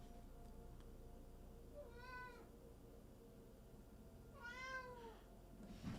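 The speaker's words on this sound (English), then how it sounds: "What are you meowing about?" A cat meows twice, a short call and then a longer drawn-out one a few seconds later, each rising clearly above a quiet room's low hum with no talking.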